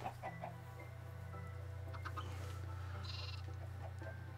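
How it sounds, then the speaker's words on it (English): Sheep bleats and chicken clucks from Minecraft livestock on Xbox One, a few short game calls scattered over a steady low hum, no talking. "Look at all the chickens!"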